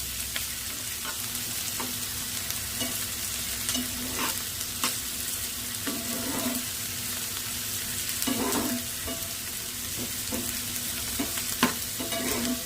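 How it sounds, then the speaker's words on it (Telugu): Onions sizzle steadily in hot oil with cumin seeds for an egg fry, with a spoon stirring and scraping the pan at intervals, close and continuous. "ఆనియన్స్ అయితే ఇలా వేయించుకుందాం"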